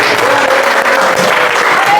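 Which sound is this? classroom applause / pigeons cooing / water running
classroom applause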